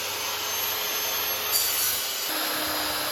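Steady abrasive rubbing of sanding on a wooden desk shelf, continuous and fairly close, with a slight change in tone partway through; no voices.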